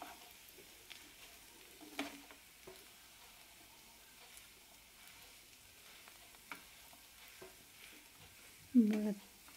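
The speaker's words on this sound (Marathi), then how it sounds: "छान परतत आलेले आहेत आता बटाटे।" Potatoes being stirred and sautéed in a pan for potato shira, a sweet Maharashtrian dish. Quiet scraping and soft sizzling come in sparse strokes, with a louder clatter near the end.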